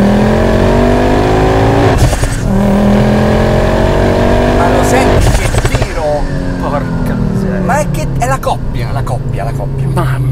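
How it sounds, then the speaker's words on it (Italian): A Ford Focus RS with a K16 hybrid turbo revs loudly nearby, its engine rising and falling with exhaust growl, a turbo whistle and popping as revs drop, while someone talks excitedly over it. "quel fischietto, quel growl, quel suono dello scarico. La pop-off."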